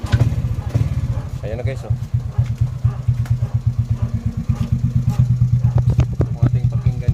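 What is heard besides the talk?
motorcycle engine and exhaust idling after cleaning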